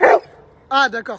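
A dog gives a short, loud bark at the start, with a brief spoken reply following close after it.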